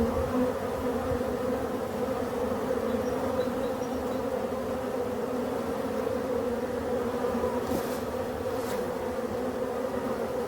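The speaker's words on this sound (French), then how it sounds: "c'est le bruit du réveil des abeilles" Honeybees buzz steadily at a busy hive entrance in spring, a dense continuous drone from many insects close by, with no voices.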